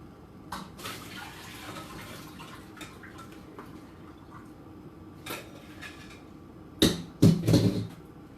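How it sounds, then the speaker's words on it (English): Water drained from a pot of boiled potatoes in a home kitchen, heard as a steady low rush with scattered drips and clinks, ending in a few louder splashing pours and metal pot knocks near the end. "So I'm going to drain these potatoes."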